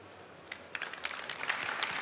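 Audience at a 3D printing industry trade fair stage applauds after an award tribute, scattered claps quickly building into steady, fairly faint clapping that fills the room with no voices over it.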